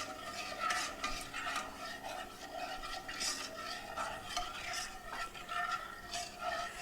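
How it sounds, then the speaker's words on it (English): A small whisk stirs a cornstarch sauce warming in a pan on the stove, giving a soft, rhythmic scraping and swishing that repeats in steady strokes at close range. "we're going to come to the stove, and what we're going to do is get a little whisk here."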